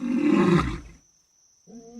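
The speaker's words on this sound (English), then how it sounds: "booming roars are like psychological warfare." A male lion roaring on the floodplain of Gorongosa Park, one deep booming roar that is loud and close and fades out, followed by a short low rumble.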